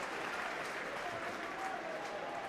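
Stadium crowd applauding steadily at a Leeds v Hull rugby league elimination play-off, a broad continuous wash of distant clapping filling the whole stretch without pause.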